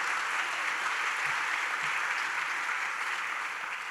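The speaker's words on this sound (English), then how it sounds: "Let's give Matt Groh one more big round of applause." Audience applause after a morning business talk at an event, a steady dense wash of clapping from a crowd that holds level throughout without pause.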